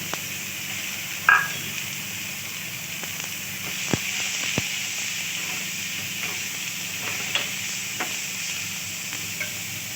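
Onion and a pinch of asafoetida fry in a spoonful of hot oil for ragda, a steady sizzle with a few sharp clicks and scrapes of stirring, close and alone without talk.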